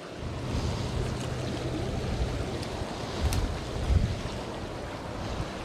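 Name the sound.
wind picking up over water while fishing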